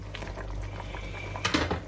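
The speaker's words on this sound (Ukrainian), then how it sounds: "Ось так гарно кипить, перемішуєте." A steady bubbling simmer of liquid in a pot, with a brief louder burst of bubbling near the end.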